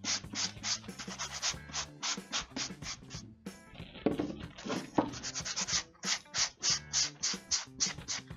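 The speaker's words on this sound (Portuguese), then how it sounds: "eu vou usar uma lixa um pouco mais fina e vou lixar aqui e em cima também" Fine sandpaper rubbing over a decoupage book box with a sunflower design, heard as a steady run of short, close scratchy strokes in a regular back-and-forth rhythm, with one brief pause midway.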